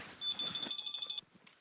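A phone rings in a shop with a short burst of bright, electronic warbling tones that stops abruptly, fairly faint, with quiet room noise around it.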